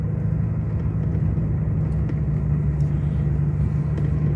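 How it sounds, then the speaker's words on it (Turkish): A truck and an oncoming car pass on a narrow road between Söke and Koçarlı in Turkey, heard as a steady, loud, low rumble of engines and tyres from inside a vehicle. "Bakın önümüze kamyon rast geldi ve karşıdan da araba geliyor."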